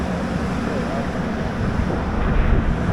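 An outdoor air conditioner unit runs on a city street, giving a steady, broad whooshing hum that holds even and continuous, with no talk over it.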